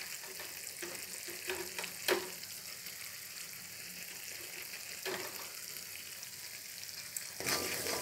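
Chopped lemongrass and chopped bay leaves fry in a pan for Balinese ayam betutu, a steady soft sizzle running throughout with a few sharper stirring scrapes and clinks.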